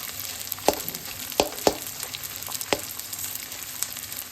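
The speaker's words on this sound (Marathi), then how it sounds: "त्यामध्ये आपण थोडा थोडा डिंक सोडून चांगला तळून घेऊ" Edible gum (dink) frying in hot ghee over a low flame, a steady bubbling crackle with scattered sharp pops and spatula taps, close and alone without voices.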